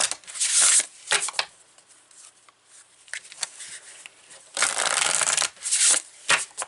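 An oracle card deck is shuffled by hand in close, crisp bursts of riffling and sliding cards, several loud flurries separated by quieter handling, with no speech.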